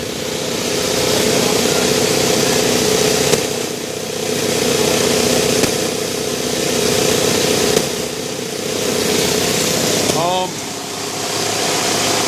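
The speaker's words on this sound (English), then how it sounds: "You can see that our engine is maintaining speed." A small air engine on a benchtop test rig drones steadily and loudly up close, its pitch wavering slightly, with a brief rising whine near the end.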